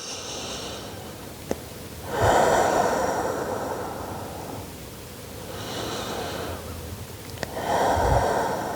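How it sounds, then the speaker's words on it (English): Slow, deep breaths are taken during a Pilates session while resting in child's pose: two long, loud airy exhales, each after a quieter inhale, heard close up in a calm room with no talking. "nice big inhale. And exhale."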